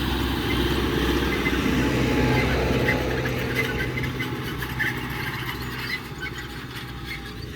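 An MTZ-892.2 tractor engine runs steadily at a low, loud, continuous idle-like drone, with a rough mechanical rumble in the field that eases slightly toward the end.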